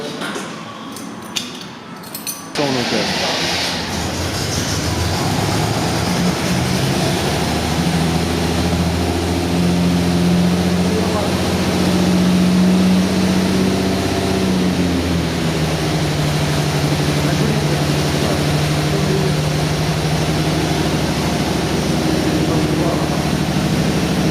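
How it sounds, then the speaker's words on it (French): A BMW 730i engine cranks briefly, catches and then settles into a steady, loud idle hum that carries on for the rest of the clip, heard up close. "Allez, on va la démarrer."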